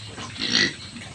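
Pigs on a farm let out a loud grunting squeal that swells and fades within a second, over a low background of other livestock noise.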